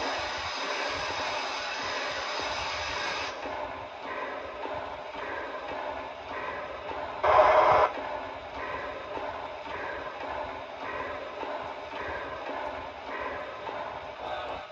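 Air pump sound from an HO scale model Southern Pacific GS4 steam locomotive: rhythmic hissing and pulsing chugs steadily, with a louder burst of air partway through, over a constant low hum.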